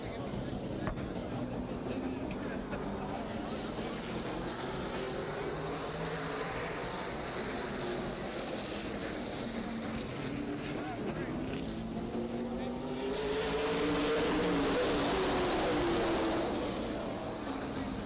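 Race cars circling a short track at the Rhododendron 100 event, engine drone rising and falling steadily throughout and swelling louder near the end as cars pass close, under a public-address announcer's voice.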